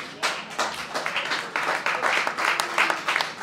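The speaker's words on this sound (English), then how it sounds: "Y'all clapping like you kind of doubt that shit." An audience at a Dick Gregory comedy talk in Hyde Park, Chicago breaks into clapping, a dense patter of many hands that holds steady, fairly loud and close, with no voices over it.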